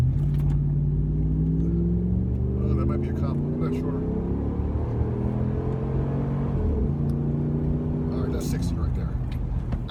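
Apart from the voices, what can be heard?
2009 Dodge Ram 1500 accelerating in 0 to 60 run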